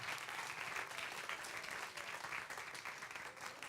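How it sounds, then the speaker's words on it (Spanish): Church congregation applauding during an evening worship service, a steady dense wash of many hands clapping, fairly faint and distant, continuing without a break. "Démosle un fuerte aplauso al Señor."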